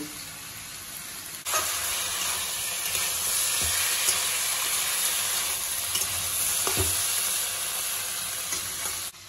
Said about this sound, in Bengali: মশলা দিয়ে 2 মিনিটের মতো কষিয়ে নিয়ে